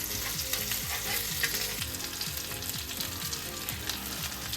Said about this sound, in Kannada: ಒಂದು ಸೈಡ್ ಫ್ರೈ ಆಗಿದೆ, ಇನ್ನೊಂದು ಸೈಡ್ ಫ್ರೈ ಆಗ್ತಾ ಇದೆ ನೋಡಿ